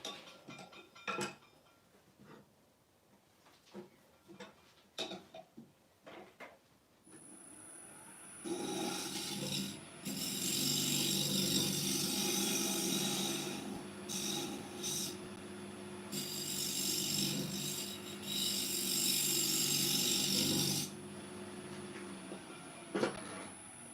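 A skew chisel used as a negative rake scraper rasps against a spinning wooden bowl on a lathe, in two long, loud stretches of scraping separated by a short pause, following quiet workshop clatter.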